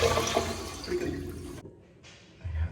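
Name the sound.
Toto toilet flushing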